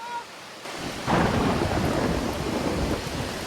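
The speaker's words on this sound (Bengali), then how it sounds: "একবারে সাদা হয়ে মুষলধারে বৃষ্টি হচ্ছে।" A thunderstorm with torrential rain pours down outside a flooding home kitchen, a sudden loud burst of dense, roaring rain and rumbling thunder swelling after a quieter start and holding steady to the end.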